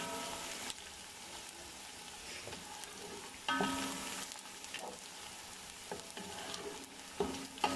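Ingredients for a mutton mince pulao fry and brown in a pan with a quiet, steady sizzle, broken by repeated scraping stirs and light utensil knocks, with no speech.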